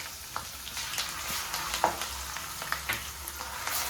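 Ginger garlic paste frying in hot oil for a Kerala-style fish pickle, a quiet sizzle with a few scattered pops and utensil clicks close by, no talking.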